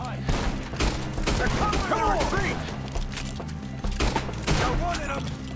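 Gunfire in the video game Red Dead Redemption 2, a dense rattle of repeated shots through the whole clip, with people talking over the shooting.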